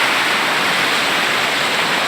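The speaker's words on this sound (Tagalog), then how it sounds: "Dito pa rin yan sa Mayhay River pa rin." The Mayhay River rushing along, a constant hissing wash of flowing water, steady and close with no pauses or voices.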